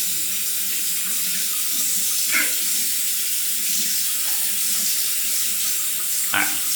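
Tap water runs steadily, rinsing lather off after a wet shave with Mitchell's Wool Fat shaving soap; an even, close hiss fills the whole stretch, broken by a couple of brief splashes, with no talking.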